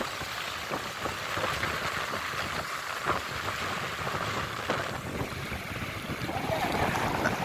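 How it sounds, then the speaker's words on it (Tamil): Sea water surging in from a beach into a pond at a fishing coast, a dense, continuous rushing wash with wind noise, steady and fairly distant. "பீச்சில் இது வருதா பார்த்தீங்களா கடல் வெள்ளம் அப்படியே வருது குளத்துக்கு"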